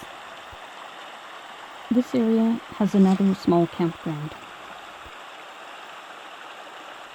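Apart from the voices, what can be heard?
creek flowing with Whitehorse Falls in the distance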